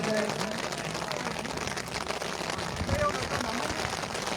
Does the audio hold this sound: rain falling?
yes